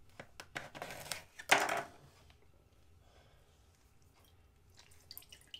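Lemon juice squeezed by hand into a bowl of softened butter: a few soft wet drips and squelches, with one brief louder squish near the start, then quiet.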